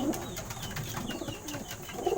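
Soft cooing of pigeons in a breeder's loft, near and fairly low, with a couple of rounded coos over a busy background of rustling and faint bird noise.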